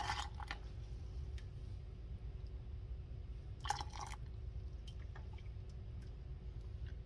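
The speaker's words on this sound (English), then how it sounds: "Now it is time to ladle it into our jars." Raspberry lemonade jelly made from concentrate is ladled into jars: quiet, sparse wet drips and squishy pours, with a small cluster of splashes partway through over a low steady room hum. No one speaks.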